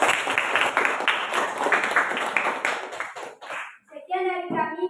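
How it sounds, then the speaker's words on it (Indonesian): A room full of people claps for a group, a dense burst of hand clapping lasting a few seconds before it fades, with voices and a short chime-like tone after. "Aplaus untuk kelompok 2 dulu."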